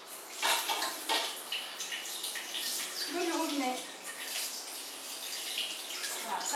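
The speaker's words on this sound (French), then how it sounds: "Et on passe ensuite sous l'eau du robinet." Juicer parts from an Omega VRT juice extractor rinsed under a running kitchen tap, a steady broadband splash of water with faint clinks, while a person talks over it.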